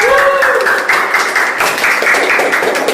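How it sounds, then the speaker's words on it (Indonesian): Loud applause from a crowd, steady dense clapping for a few seconds with voices mixed in. "Tepuk tangan dulu."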